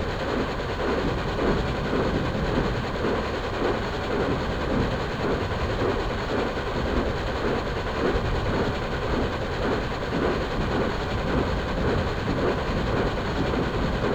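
Royal Scot steam locomotive running in Microsoft Train Simulator, a continuous loud rolling rumble with steady rail noise throughout and no talking.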